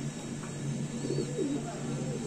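Soft, low cooing from two male Madrasi Giribaz high-flyer pigeons rises and falls, close by, against a steady background hum.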